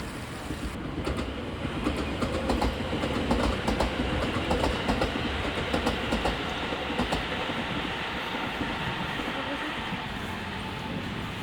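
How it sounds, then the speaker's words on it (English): A commuter train rumbles past close by at Umekōji Park in Kyoto, with rhythmic clickety-clack of wheels over rail joints, a steady loud roar throughout. "the constant flow of trains passing close by"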